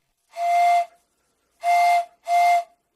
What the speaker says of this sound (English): He had an old vintage train whistle that made a very nice sound.